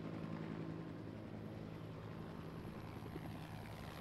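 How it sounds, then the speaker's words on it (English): A helicopter drones overhead in the zombie survival video game Project Zomboid, a faint, steady rotor and engine hum that holds even throughout with no talk. "Helicopter!"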